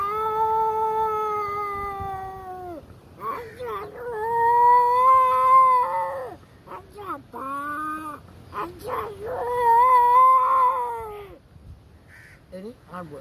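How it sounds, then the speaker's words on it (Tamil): A female cat and a male cat yowl and caterwaul at each other in a fight, with long, drawn-out wailing cries and short broken squalls near the microphone, rising and falling in loud bouts over about thirteen seconds. "இதுதான் பெண் பூனை."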